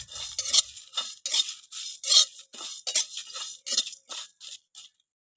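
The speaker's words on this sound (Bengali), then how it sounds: "ভালো করে নাড়িয়ে চাড়িয়ে একটু ভেজে নেবো" Spices and dried red chillies stirred in a wok for raw mango pickle: a brisk run of about a dozen scraping, rasping strokes in a quick, uneven rhythm, close up and alone, without talk.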